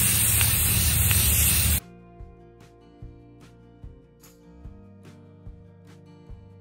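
Rust-Oleum flat protective enamel hisses from a spray can outdoors in one steady close burst lasting under two seconds, then stops abruptly, leaving quiet music with soft plucked notes behind.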